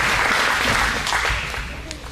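A graduation ceremony crowd gives a round of applause, a loud, continuous burst of many people clapping that tapers slightly toward the end.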